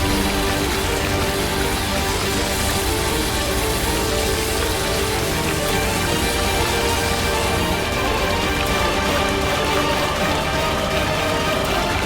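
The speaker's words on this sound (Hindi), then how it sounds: "2 मिनट भी नहीं रुकी ये बारिश।" Heavy rain pours steadily onto surfaces, a dense, even hiss with no pauses that stays loud and close throughout.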